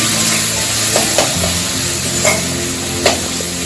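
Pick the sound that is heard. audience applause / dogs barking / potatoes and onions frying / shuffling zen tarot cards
potatoes and onions frying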